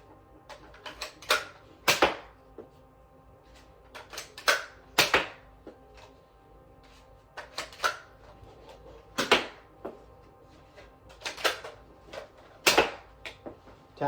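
A Hero Combat toy blaster fires foam darts, a series of sharp, snappy pops spread irregularly over fourteen seconds with quiet mechanical clicks and priming noises between shots, close and clear with no speech.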